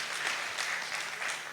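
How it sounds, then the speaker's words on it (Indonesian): An audience at a PGPI plenary session claps for Ibu Vera in dense, even applause, many hands blending into a steady rustling wash throughout. "Mari kita berikan tepuk tangan kepada Ibu Vera."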